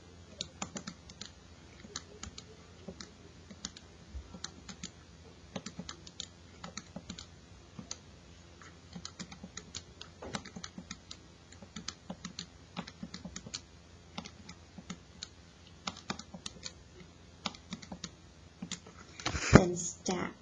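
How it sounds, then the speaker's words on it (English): Quick plastic key presses on a graphing calculator as new values are entered into its statistics tables, a long run of faint, close, irregular clicks, with a short louder clatter near the end. "clear out my tables, and type in my new values."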